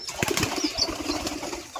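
Pigeons on a farm flap their wings in a quick, close burst of soft fluttering beats, with no voices.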